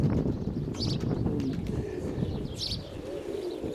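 Pigeons cooing nearby in soft, repeated throaty calls, with a few faint chirps and rustles around them.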